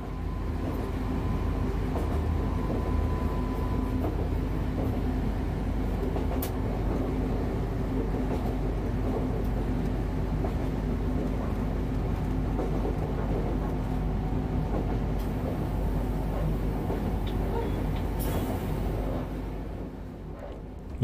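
A train rolls slowly downhill on a mountain line with its pneumatic brake holding the speed, a loud continuous rumble of wheels and carriage noise with faint brake squeals and no speech.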